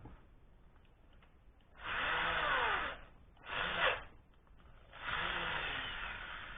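A small drill bit spins up in three bursts, each a rising, whining whir of a power drill close by, separated by short pauses with faint background noise.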